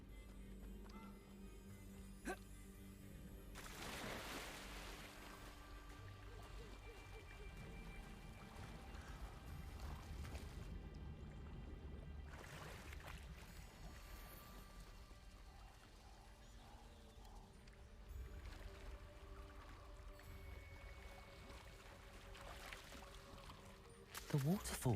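Waterfall in Hogwarts Legacy, a continuous faint rushing of water that holds steady throughout, mixed with quiet game ambience and brief speech.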